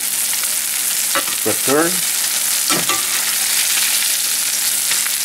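Cod fillet frying in butter and oil in a pan, a loud, continuous crackling sizzle throughout, with a brief spoken word and faint scraping as the fish is turned.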